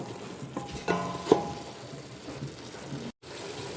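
Chickpeas being stirred in a pot for Moroccan couscous, soft scraping and light sizzling with a couple of louder clinks of the spoon against the pot, close and fairly quiet, with a brief dropout near the end.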